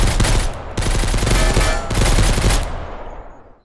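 Automatic gunfire from the video game Mist Survival: loud, rapid bursts of shots in three long volleys, close and harsh, fading at the end.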